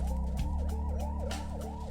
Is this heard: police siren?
yes